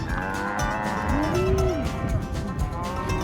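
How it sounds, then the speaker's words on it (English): Cows low in a long, drawn-out moo at a Wisconsin dairy farm, close and loud over a constant outdoor rumble, with fainter calls from other cattle around. "We made it to a cow farm here."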